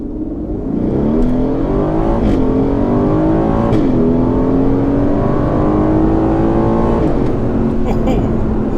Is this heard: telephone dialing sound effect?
no